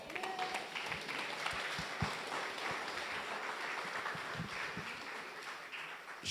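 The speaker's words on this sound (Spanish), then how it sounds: "Le damos un aplauso al Señor" Congregation clapping for the Lord at a Good Friday church service, a soft, steady patter of many hands from a distance, sustained for several seconds without talking.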